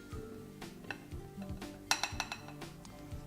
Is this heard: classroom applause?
no